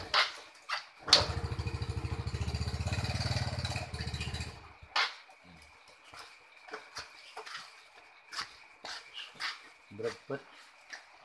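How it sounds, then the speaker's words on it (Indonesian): Honda Supra X 125 motorcycle with a sputtering fault, starting and revving in a long close burst, then cutting out to short uneven engine blips and bursts; a dog barks and people talk nearby. "Ini motornya, bentar tak cobain dulu."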